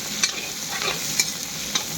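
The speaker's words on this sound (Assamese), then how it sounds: "সয়াবিনটো আগতে ভাজি লওঁ তেলত" Soybean chunks fry in hot oil in a pan, giving a steady close sizzle. Three sharp clinks of a spatula come at regular intervals.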